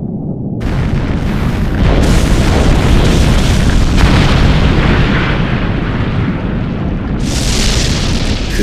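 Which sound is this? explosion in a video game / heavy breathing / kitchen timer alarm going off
explosion in a video game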